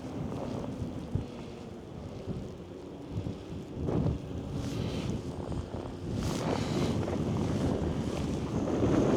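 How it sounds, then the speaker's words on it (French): Wind gusts across an exposed trail in the Parc du Mont Bélair, roaring in buffeting waves against the microphone and swelling louder toward the end, with no voices. "Alors je sais pas si vous serez gêné par le vent."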